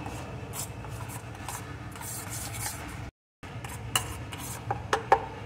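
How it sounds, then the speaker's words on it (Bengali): A fish curry spice paste with a little sugar is mixed by hand for Pabda fish, making a close, continuous soft rubbing and squishing with a brief silent gap and a few light clicks near the end. "এখন সব কিছু ভালো করে মিশিয়ে নেব।"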